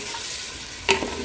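Chicken pieces being stirred into a hot spiced tempering for a Khandeshi black-masala curry, a soft continuous sizzle broken by a sharp metallic clink of a spoon against the pan.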